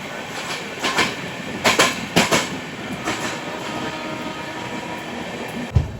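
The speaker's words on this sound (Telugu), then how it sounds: "Skipping Godavari railway station." An LHB-coach Ratnachal Express rolls through Godavari railway station without stopping, heard from on board as a steady rumble of wheels with a few sharp rail-joint clacks and thumps, and no voices.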